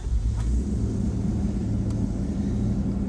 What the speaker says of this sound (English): your car will sound louder once it gets the new coolant in there